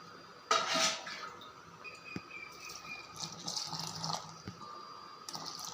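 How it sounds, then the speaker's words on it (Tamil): Water poured into a bowl of rice flour, gram flour and rava for dosa batter, with a brief splash of pouring followed by faint clinks of utensils and drips in a quiet kitchen. "இப்போ இதில் நான் ரெண்டு இது தண்ணி ஊற்றிக்கிறேன்"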